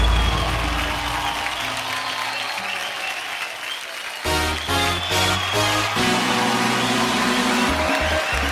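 Loud sustained audience applause at a tribute event honoring the Mumbai police, a dense crowd clapping for about four seconds before music swells in and the clapping fades beneath it.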